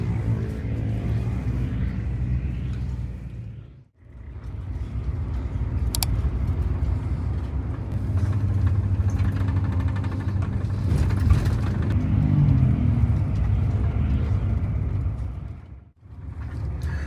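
Low, steady engine rumble fills the cabin of a Sinar Jaya executive double-decker bus, continuous and fairly loud with a couple of brief dropouts and occasional small rattles, no one speaking.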